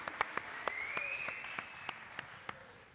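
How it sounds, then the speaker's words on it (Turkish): Studio audience applause on a Turkish TV talent show, a sparse scatter of sharp hand claps over a steady hiss, with a faint tone gliding through the middle and no talking. "Alkışlar Mustafa için geldi"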